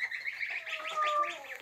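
Geese on a farm give a short run of repeated calls, several quick rising notes close by over a faint background.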